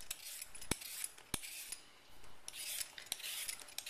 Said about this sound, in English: if you're going to use them for mashed potatoes, you're going to peel them